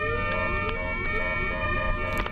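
An ambulance siren wails steadily in traffic on a narrow road, with its rising and falling tone continuous and fairly close throughout, and a few faint background noises.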